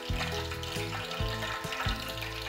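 Battered shiitake mushroom pieces dropped into hot oil for a second, browning fry, giving a close bubbling sizzle with a few bursts as pieces go in and come out.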